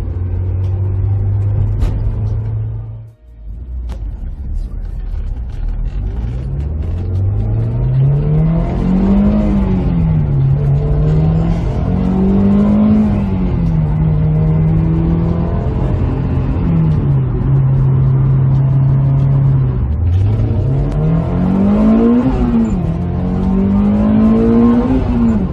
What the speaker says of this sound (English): that revving, that willingness to keep revving after you want to shift